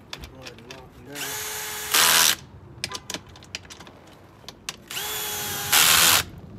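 Two bursts from a power tool tightening threaded bolts on the oil pan of a 1988–91 Honda Civic hatchback. Each burst is a whirring spin-up that rises into a louder, harsher grind, close by, with rattly clicks and light clatter between.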